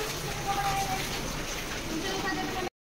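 Steady rain falls continuously, a dense broadband hiss and patter that holds evenly for several seconds before cutting off, with no voices over it.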